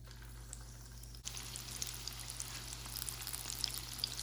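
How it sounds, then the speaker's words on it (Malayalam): Coconut oil goes into a hot pan, and after a short shift a steady, faint crackling hiss takes over and continues evenly, with no talking. "ചൂടായ പാനിലേക്ക് വെളിച്ചെണ്ണ ഒഴിക്കാം."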